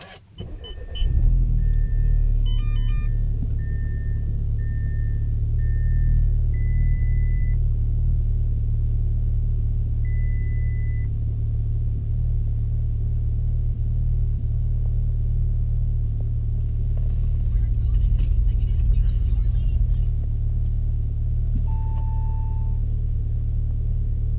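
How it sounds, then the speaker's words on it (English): An Audi S3 8V engine cranks and catches within the first second, then settles into a steady low idle rumble, while dashboard warning chimes beep repeatedly in short tonal sequences over it. "We're gonna go ahead and turn the car on."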